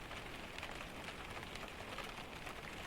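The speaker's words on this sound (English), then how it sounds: "The rain becomes a soft drumming just above your ears." Steady, soft rain falls through a forest, a dense even patter of drops on surfaces that holds level from start to finish with no other sounds.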